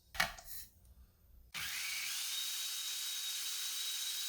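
A food processor blends oats and water into oat milk on high speed. After a brief rustle it starts abruptly and runs as a loud, steady whirring drone with a high whine.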